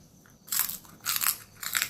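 Crunchy peri peri makhana bitten and chewed close up, three distinct loud crunching bursts spaced evenly over two seconds with quiet gaps between.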